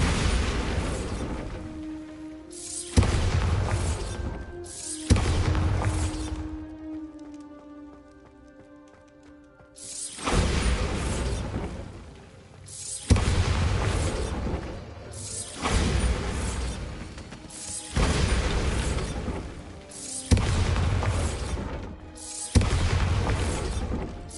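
Explosive Bombarda spell blasts in the video game Hogwarts Legacy, heard as repeated loud booming bursts with crackling debris, separated by brief lulls and a ringing tonal pause.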